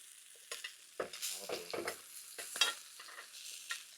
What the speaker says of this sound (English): I'm going to do 2 pats of butter.